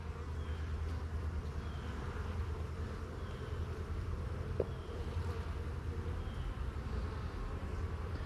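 Bees around a hive make a continuous low drone. The buzzing is fairly steady and moderately loud, with no talking.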